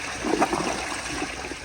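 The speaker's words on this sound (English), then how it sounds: "So here is a flush." A 2005 Vitra elongated front-flush toilet flushes with a steady, fairly faint gurgling rush of water draining and trickling through the bowl, heard alone.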